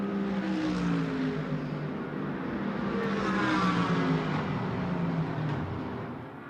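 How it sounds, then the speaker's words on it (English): GT race cars of the SRO3 class scream down the front straightaway at Indianapolis, a sustained loud engine roar with rising and shifting pitch as the cars pass, with no talk over it. "He'll clear these cars down the front straightaway with the extra power of the SRO 3 machine."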